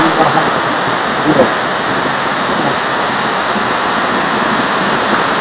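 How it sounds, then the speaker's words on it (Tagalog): Heavy rain pours down steadily as a dense, even hiss throughout, close and loud with no clear pauses. "Malakas ang ulan."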